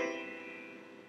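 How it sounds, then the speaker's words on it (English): One sustained major seventh chord, soft and steady, decaying slowly from its opening attack with no talking over it. "And here is how major seventh chord sounds."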